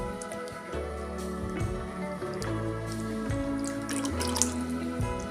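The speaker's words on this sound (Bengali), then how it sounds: "আপনারাও এরকমভাবে বাড়িতে আলুটাকে ভালোভাবে বারবার জল দিয়ে ধুয়ে নেবেন" Potatoes rinsed under running tap water for Bengali shoestring fries, a steady splashing flow with drips and wet squishing as the potatoes are handled, moderately near and without talk.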